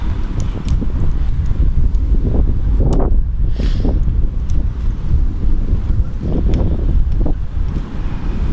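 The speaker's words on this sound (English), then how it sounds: "it is pretty windy." Strong wind roars and buffets against the microphone outdoors during compound bow shooting, in loud, uneven gusts, a heavy low rumble with no voices.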